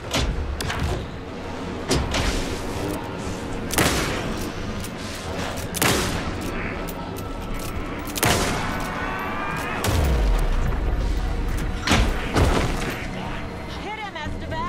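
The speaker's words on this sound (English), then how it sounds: "Anderson, pin him down with gunfire for me to get the light on him." Bursts of gunfire blast at an enemy in a video game, loud sharp shots recurring every couple of seconds over constant game noise, with voices talking in between.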